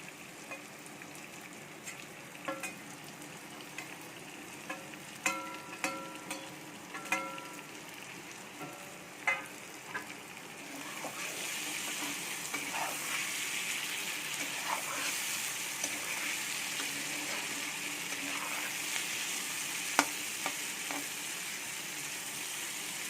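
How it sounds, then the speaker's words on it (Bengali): Small fried fish are tipped into a pan of frying potatoes in a Bengali home kitchen. A few clinks and stirring taps come first, then a louder, steady sizzle runs through the rest. "আমার আলু ফ্রাই হয়ে গেছে, এর মধ্যে মাছ দিয়ে দিব, ছোট ছোট মাছগুলো, ফ্রাই করা মাছগুলো"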